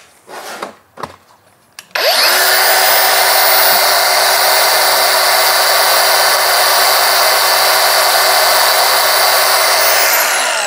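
A Dongcheng DCMS03-100 cordless angle grinder fitted with a grinding disc spins up after a few quiet knocks and then runs steadily at a loud, constant high-pitched whine with a low hum beneath, unloaded and alone.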